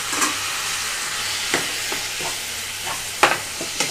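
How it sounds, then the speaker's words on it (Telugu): Chopped tomatoes tipped into hot frying oil with spices for a tomato boondi curry, a steady bright sizzle with several sharp stirring scrapes and spatters, close and loud, no voices. "ఇప్పుడు ఇందులోకి కట్ చేసి పెట్టుకున్న టమాటో వేసేస్తున్నాను."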